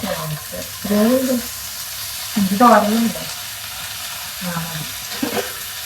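Chopped ivy gourd sizzles and fries in a pan, a steady close crackle that runs underneath a voice speaking in short intermittent bursts.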